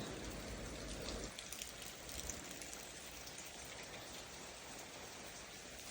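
Steady rain falls outdoors, a dense, even hiss of drops on surfaces that continues without pause, moderately loud and with no talk.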